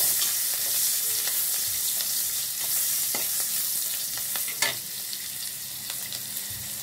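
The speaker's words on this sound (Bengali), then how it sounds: "এর ভিতরে দিয়ে দিচ্ছি একটু পেঁয়াজ কুচি, সাথে দিচ্ছি সামান্য একটু সরিষার তেল।" Chopped onion fries in mustard oil with a steady close sizzle, broken by a few scraping stirs and one sharper clack of a utensil, and there is no talking.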